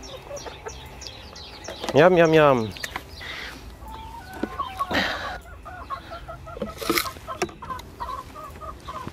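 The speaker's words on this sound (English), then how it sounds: "Hello, crazy chicken. How are you this morning? You want to eat something?" Chickens cluck and squawk close by in a morning farmyard, with one loud rising call early on and scattered clucks after, while a person talks softly to them.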